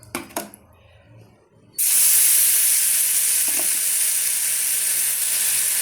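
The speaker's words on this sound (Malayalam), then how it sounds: "നമ്മൾ നെയ്യൊക്കെ തടവി വെച്ചിരിക്കുന്ന തവയിലോട്ട് നമുക്കിത് വെച്ച് കൊടുക്കാം" Dosa batter hits a hot ghee-greased tava and bursts into a loud, sustained sizzle that holds steady to the end, after a few soft clinks and handling sounds.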